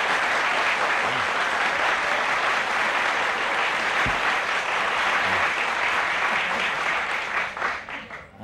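A studio audience at a 1970 televised talk show applauds strongly and steadily, a dense wash of clapping that holds for several seconds before thinning out near the end.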